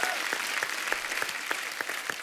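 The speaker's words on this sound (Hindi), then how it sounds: "उसके लिए जोरदार तालियां।" Studio audience at a TV comedy show breaks into brisk, lively applause with some sharp accented claps, a short burst of many hands heard close and full.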